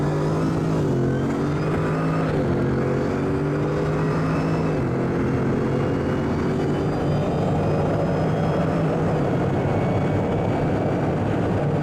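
A Bugatti Veyron pulling away at full throttle, a loud sustained engine roar whose pitch climbs through gear changes, rising and dropping in steps before a steady high drone.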